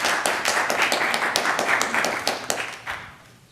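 Scattered hands clap in a city council chamber, a quick, uneven patter of claps from a modest group that thins out and fades toward the end.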